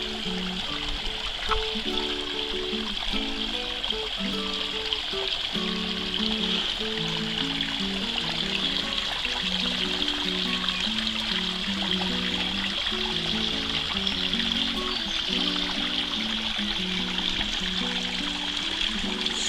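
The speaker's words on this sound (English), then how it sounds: "The overflow from the lake, which is just up here." Water overflowing from a lake runs as a steady trickling stream, a continuous close wash of flowing water that never lets up, with a low rhythmic hum underneath.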